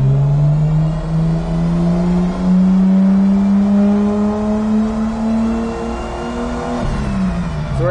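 A car engine revs in third gear on a tuning run, a loud, close, steady climb in pitch over several seconds before the throttle drops near the end.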